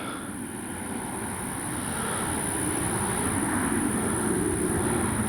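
An Avios Kobuz RC airplane glides in to land with flaps down and power off, a steady airy rushing drone that swells slightly as it nears, continuous and without talk.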